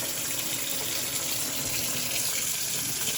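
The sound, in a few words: hot water running from a tap with air in the pipes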